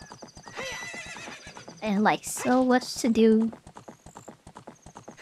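Horse galloping in the Ocarina of Time video game: quick rhythmic hoofbeats run throughout, with loud neighs in the middle, while a person talks over it.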